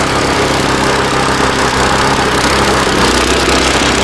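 A homemade mini tractor engine runs at a faster speed with a gear engaged, a loud, steady, close mechanical drone with constant vibration and no pauses.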